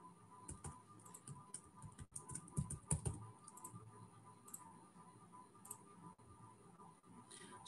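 Keys are typed on a computer keyboard to enter a password, a quiet close patter of quick irregular taps in short bursts with a few louder clicks, and no one speaking.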